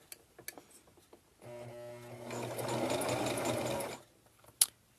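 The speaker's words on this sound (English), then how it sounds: "I want to sew above it," Sewing machine stitching through fleece for a hat, a steady motor whir running for about two and a half seconds between quiet handling clicks, close and alone.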